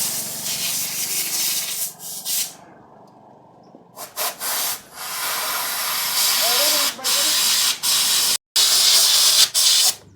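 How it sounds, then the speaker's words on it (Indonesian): Spray blasting into a motorcycle engine at a workshop to speed up oil draining, a loud continuous hiss broken into several bursts with brief pauses, close by and mostly alone. "Disemprot Oh, biar mempercepat keluarnya oli."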